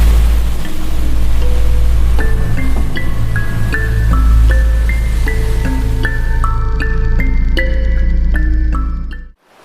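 A steady wash of rushing surf noise fills the background while a gentle melody of plucked notes plays over it, fading out at the end.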